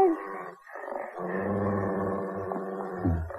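A dog whimpers and growls close by in a short, continuous stretch of low grumbling and whining.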